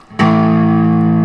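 An electric guitar power chord is struck once through an overdrive pedal turned to full drive. It rings out loud, thick and heavily distorted, sustaining evenly to the end with no voices.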